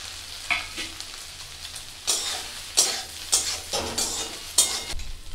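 Soybean chunks frying in oil give a steady close sizzle, with a stirring utensil scraping the pan in several bursts and no talk over it.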